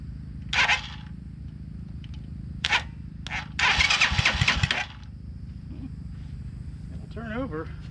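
A motorcycle left sitting for ten years cranks over in a few short bursts, then catches briefly with a rough sputter before dying back to a low idle hum, with people talking nearby.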